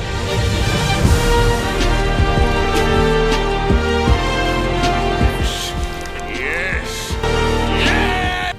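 Dense, busy soundtrack music from the Miles Morales Spider-Man video game, loud and continuous with layered beats, sustained tones and scattered percussive hits throughout, with no talking.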